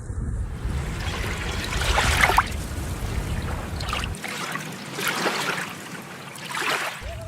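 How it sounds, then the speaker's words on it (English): Water is poured out of a bucket outdoors during a field-day relay game, a rushing, splashing stream that swells and eases over several seconds against background noise. "You can go for however long you want or until the water is out of your bucket."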